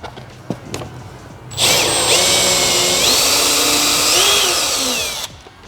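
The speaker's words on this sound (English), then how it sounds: "Drill them from the bottom up, just like so. Again, that's a 5/32 drill bit we have." Power drill with a 5/32 drill bit boring holes up through the bottom of a front splitter endplate on an MK5 Toyota Supra, a loud steady whine held for about four seconds after a few faint clicks.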